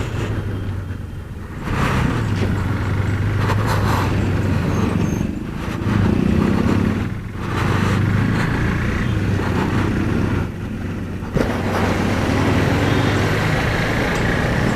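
A KTM 390 Duke single-cylinder motorcycle engine revs hard and pulls through gears on a test ride, loud and close under rushing wind, with short dips between pulls.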